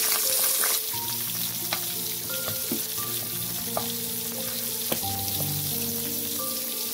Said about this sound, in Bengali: কড়াই বসিয়ে দিয়েছিলাম, সেটাতে আমি পেঁয়াজের পেস্টটা দিয়ে দিয়েছি।